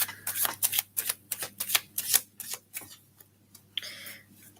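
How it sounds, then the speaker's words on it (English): Tarot cards are riffled and shuffled in quick bursts of crisp flicking, repeated several times up close, then a softer slide at the end. "I'm going to shuffle these cards."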